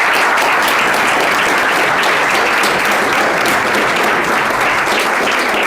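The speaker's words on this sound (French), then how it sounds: "d'applaudir les deux acteurs." Loud, dense applause from a conference audience for two actors, continuous close clapping that fills the whole stretch without pause.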